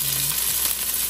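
Celery sautéing in about two teaspoons of olive oil with onion and garlic, giving a steady, close, even sizzle throughout the short moment.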